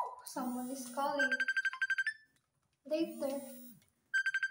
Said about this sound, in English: Someone is calling.